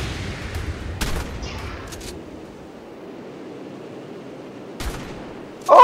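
Gunfire in the video game Ark: Survival Evolved: a few sharp shots cracking out at separate moments over a steady wash of background noise, the last one loud and close.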